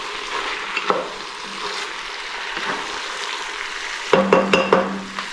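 Golden Mountain seasoning sauce hits a hot pan of frying Spam and bok choy, with a loud sustained sizzle and stirring scrapes, then a burst of sharper crackling and clinks near the end.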